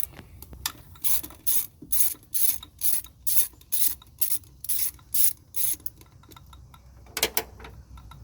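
Ratchet wrench loosening bolts on the cylinder head of a Jeep XJ 4.0 engine, with a run of about a dozen quick, even clicking bursts close by, then a pause and one last short burst.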